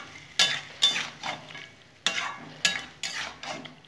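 Marinated chicken with salt, turmeric, lemon juice and pepper frying in a pan, with bursts of sizzling and scraping as it is stirred, a few sharp metallic clinks of utensil on pan between quieter gaps.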